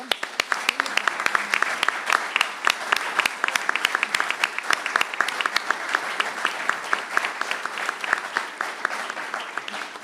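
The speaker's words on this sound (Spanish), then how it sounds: "y hay que darle un aplauso" An audience at a commemorative event at a book fair breaks into sustained, dense applause that stays loud and steady throughout.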